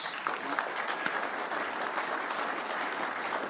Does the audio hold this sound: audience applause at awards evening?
yes